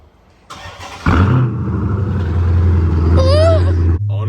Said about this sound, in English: Let me hit y'all with a warm start real quick.